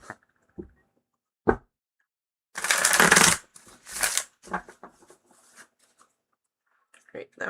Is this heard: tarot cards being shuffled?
yes